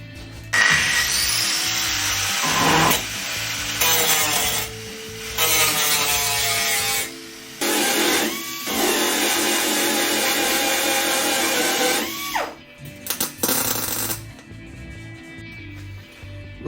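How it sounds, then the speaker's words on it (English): An angle grinder works back welds on a car's rear panel during a Cosworth track car build, with loud sustained grinding bursts broken by short pauses, close up with no talk. "a couple of gaps here that need to be sorted out, but I'll grind this back."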